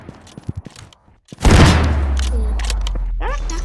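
Gunfire in a Roblox sniper game: a burst of loud close shots followed by a sustained rumbling roar, preceded by a few light thumps.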